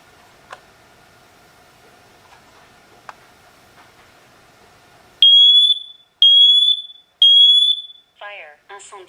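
A SITERWELL hardwired interconnected smoke and carbon monoxide detector fires off three loud, piercing alarm beeps, then a spoken voice warning follows. Before the beeps, faint ticks and a low hum sit in a quiet room.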